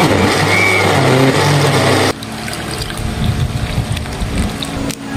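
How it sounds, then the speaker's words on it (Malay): A blender grinds pandan leaves with five cups of water, a loud, steady whirring roar that shifts partway through to a lower, rougher churning with no talking. "Kisar halus 12 lah daun pandai dan 5 cawan air."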